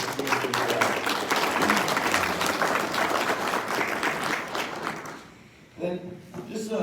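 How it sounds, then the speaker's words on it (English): Sustained applause from an audience at a mushing race closing ceremony and marathon awards, steady and full for about five seconds before dipping briefly and picking back up. "So that's round of applause for yourself."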